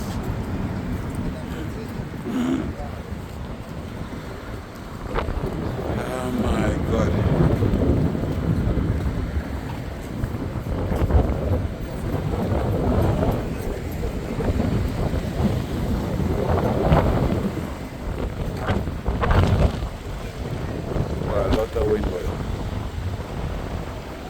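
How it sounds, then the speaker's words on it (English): Strong wind buffets an outdoor microphone in loud, continuous rumbling gusts that swell and ease throughout, with no clear talk over it. "Lot of wind here, boy."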